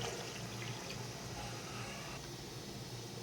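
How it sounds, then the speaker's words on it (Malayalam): Water is poured into a pressure cooker of mutton curry, a soft, continuous rushing that stays faint and even from start to finish. "അരക്കപ്പ് വെള്ളം ഒഴിച്ച് കൊടുക്കണ്ട കേട്ടോ."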